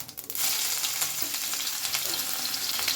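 Grated ginger and whole cumin seeds hit hot oil with a sudden loud crackle that settles into a dense, steady sizzle, close up, with faint stirring scrapes and no talking.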